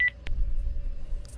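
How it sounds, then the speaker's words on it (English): Telephone handset gives short electronic beeps as it is put down: a quick pair of tones, then a steady faint dial tone beneath a low background hum. "I'm putting the phone down now."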